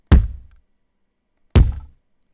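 Two deep hip hop kick drum thud samples, each a punchy low hit with a short decaying tail, spaced about a second and a half apart with silence between them.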